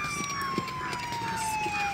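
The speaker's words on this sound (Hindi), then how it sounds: "एम्बुलेंस था।" An ambulance siren wails steadily and fairly close, its pitch sliding slowly downward over two seconds with a faint thump of background noise.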